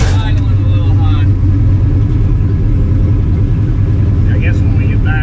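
A turbo LS-swapped Foxbody engine idles high and steady after a belt-drive fuel pump install, a close, continuous low rumble filling the clip with no talk over it.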